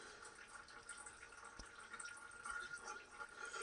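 Sludge draining from a Highland Park Model J2 18-inch slab saw, a faint, steady trickle of liquid with one brief low thump partway through.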